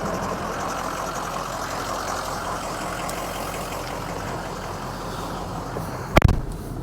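A 2004 Ford Excursion Limited with a 6.0-liter Powerstroke diesel and 4WD runs steadily at idle, a constant broadband rumble close by, broken near the end by a brief sharp clunk.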